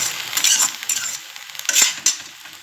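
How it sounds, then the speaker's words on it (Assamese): Fish and onions stirred and frying in a pan, with light sizzling under irregular scrapes and clinks of a spatula against the metal, close and intermittent. "এতিয়া ধুনীয়াকৈ লাৰি দি কিনে 10 মিনিট ভাজি ল'ম।"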